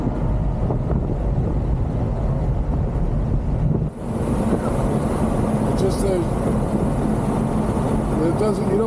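A Ferrari 360 mid-engine car accelerates with a steady engine drone heard from inside the cabin, while a person talks over it throughout.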